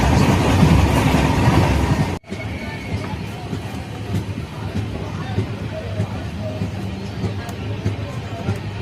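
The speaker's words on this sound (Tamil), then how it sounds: "நாம் இப்பொழுது தஞ்சை ரயில் நிலையத்தை நெருங்கி கொண்டு 1 கிலோமீட்டர் தான் தஞ்சாவூர் ஜங்ஷனுக்கு இருக்குது." A Janshatabdi Express nearing Thanjavur station, heard from on board: loud rushing rumble that cuts abruptly, then steady running noise with rhythmic wheel clicks over the rails.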